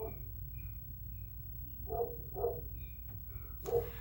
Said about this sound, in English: I think that's an Arcanine barking at me